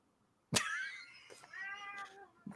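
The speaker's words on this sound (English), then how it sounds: "That cat is going to kill you in your sleep." A cat meows once loudly and close, then lets out a longer wavering meow after a short pause, with a faint thump at the end.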